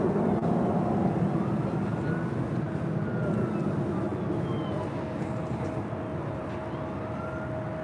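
Falcon business jet taking off at Los Angeles International Airport, a steady broad roar holding throughout and easing slightly toward the end, with a faint whining tone running beneath it.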